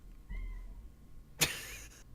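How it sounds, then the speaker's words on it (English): A house cat crying with a soft drawn-out meow, followed a moment later by a louder, sharper wail, both fairly close in an otherwise quiet room. "My cat's crying."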